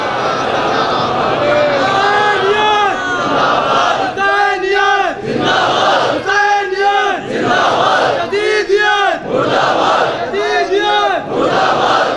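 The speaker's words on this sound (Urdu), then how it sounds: "ایک صلوات بلند آواز سے بر محمد والے" A large mosque congregation at a Muharram majlis in Lucknow loudly chants salawat in unison, a dense crowd roar of repeated, rising and falling vocal phrases that fills the space for about twelve seconds.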